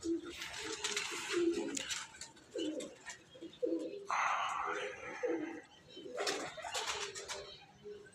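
Soft, throaty pigeon coos repeat through the scene on a rooftop loft alongside chirps and occasional wing flaps, with hissy background noise and some talking.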